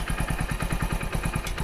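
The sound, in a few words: Hero Splendor Plus motorcycle engine idling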